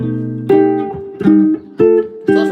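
An acoustic guitar plays the opening of a jazz tune, starting on an augmented chord, with four struck chords in an uneven rhythm that ring briefly before the next, close and clear with no talking.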